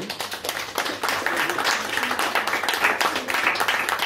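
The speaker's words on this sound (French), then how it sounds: "Je vous demande de les applaudir." Audience applause at a French literary conference, a dense burst of many hands clapping at once, loud and sustained throughout with no speech.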